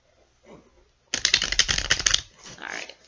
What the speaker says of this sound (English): one more shuffle and then